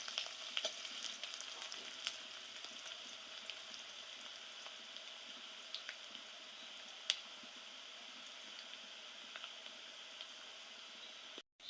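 Boiled elephant foot yam stems being fried with chopped onion in a pan, giving a faint, steady low sizzle with soft occasional ticks and stirring clicks and no voices.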